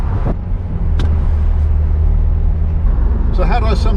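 A Mercedes-Benz SL400 convertible cruises with its top down, giving a loud, steady low engine and road rumble with wind noise throughout, joined by a brief higher whine near the end.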